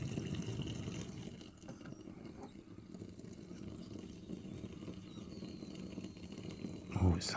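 Liquid glugging and splashing as it is poured into an old Renault Clio with the engine off, a continuous low gurgling fill heard at close range alongside talking.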